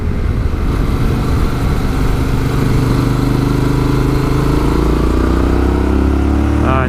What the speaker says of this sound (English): you hear the sound of my beautiful sounding Akrapovic